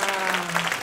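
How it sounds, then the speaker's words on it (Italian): Dense burst of crowd applause with a steady tonal hum beneath it, sustained and fairly loud through a brief moment. "Un applauso."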